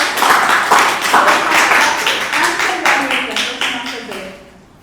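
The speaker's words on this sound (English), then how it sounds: "Please give a big round of applause." A room of attendees at a Toastmasters club meeting applauds with steady, fairly close clapping. The claps thin out and fade toward the end.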